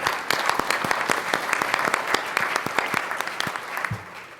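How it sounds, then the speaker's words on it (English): Audience applause at a panel forum on Black economics, a dense burst of clapping heard clearly and continuously for a few seconds. "so let's give him a round of applause"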